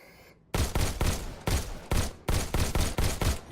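Pistol in the VR shooter Robo Recall firing rapidly in bursts of two or three sharp, loud shots after a brief quiet start, each crack followed by a short metallic tail.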